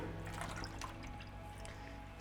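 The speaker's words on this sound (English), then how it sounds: "just pump some water in." Faint trickling and dripping of water as a pump fills an algae-infested aquarium during a water change, soft, close and continuous under a low steady hum.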